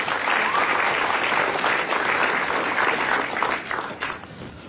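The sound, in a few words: audience applauding a comedian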